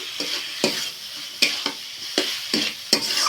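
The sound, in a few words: fried pointed gourd added to sizzling masala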